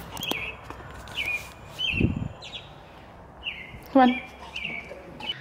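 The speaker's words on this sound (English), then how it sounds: "And our backyard is apparently a bird sanctuary." Backyard birds chirp and tweet in short, bright bursts scattered across the moment, fairly close, while a person speaks briefly and a soft thump or footstep sounds in the background.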